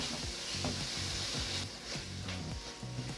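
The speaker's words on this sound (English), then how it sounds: "I'm gonna stir that up." Chicken à la king with vegetables is stirred in a sizzling pan, a constant hiss under repeated scraping and clacking strokes of the spoon at an even rhythm, close and fairly quiet.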